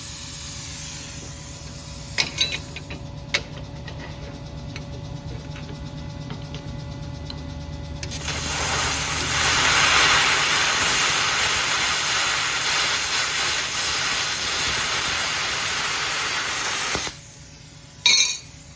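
An NSWEL NSP-75FD plasma cutter running at 60 amps gives a loud, steady roaring hiss for about nine seconds, preceded by quieter fan hum and a few clicks, then cuts off into a brief burst of air.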